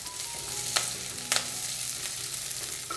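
Chopped onion sautéing in hot oil in a kadai for capsicum curry, a steady close sizzle with two sharp clinks of a spoon against the pan.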